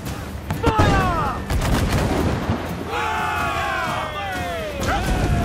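Sailing-ship cannons boom in a ragged volley during a naval battle in Assassin's Creed IV Black Flag, several loud blasts spread across the stretch, with shouting crew voices and whistling shot sounds around them.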